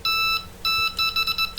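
Electronic fishing bite alarm set to a lower response level, giving a run of bright, shrill beeps in two bursts with a short gap, then quicker broken pulses like a warble.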